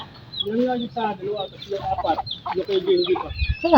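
Hens and young chicks clucking and cheeping close by in a backyard flock, repeated short calls through the whole stretch, with a person talking in between.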